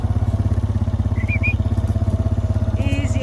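A four-wheeler ATV engine runs steadily at a low idle-like throb while calves are pushed along on a farm, close and continuous, with a few faint high calls over it.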